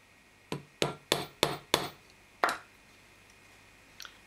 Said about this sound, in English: Use any hammer you have to hand. This is a planishing hammer.